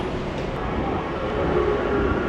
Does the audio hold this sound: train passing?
yes